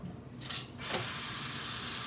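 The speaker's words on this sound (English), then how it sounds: "I'm gonna get some water from the pipe." Tap water gushes from a kitchen pipe, filling a small blender cup, starting abruptly after a brief softer hiss and then running as a steady, close, bright rush.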